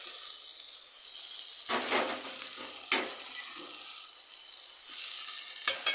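Bitter gourd and potatoes fry in a pan with a steady hiss of oil, broken by a few louder scrapes and bursts as the pieces are stirred.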